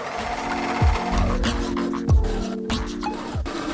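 Sewing machine stitching the lined tops of a summer dress together, a steady mechanical whir in short bursts with brief pauses between runs, close by.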